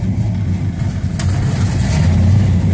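A 55-year-old classic Dodge 383 V8 on its original carburetor sputters as it warms toward idle, a loud, close, rough low rumble with an uneven pulsing beat and no speech.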